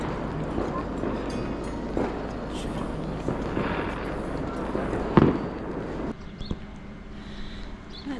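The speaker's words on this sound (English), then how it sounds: "There is just absolute booms and bangs in all directions here." New Year fireworks in the Hallstatt area boom and crack at a distance, scattered irregular bangs with one sharper nearer burst, over outdoor ambience and some faint voices.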